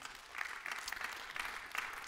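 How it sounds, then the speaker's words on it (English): A church congregation claps in a steady, rhythmic beat, faint and distant, the claps coming in regular bursts a few per second. "is that a good hand clap"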